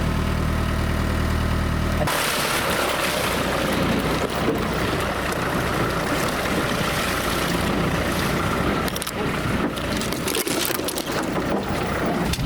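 A 1968 Land Rover Series 2B Forward Control under way, its mid-pitched engine droning loudly and continuously with rattling and road rumble filling the cab, after a brief steadier idle-like hum at the start.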